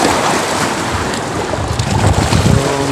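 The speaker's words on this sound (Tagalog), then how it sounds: "So, malakas ng hangin," Strong wind buffets a small fishing boat on rough water, loud roaring gusts and wind noise over crashing waves and hull splashes throughout, with no speech.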